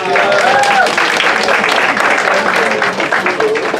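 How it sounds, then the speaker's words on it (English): Audience applause at a community talk on hobbies versus careers, steady broadband clapping that fills the whole stretch at close range, with voices and tonal chatter mixed in over it. "Can we all clap for Monsieur Jean?"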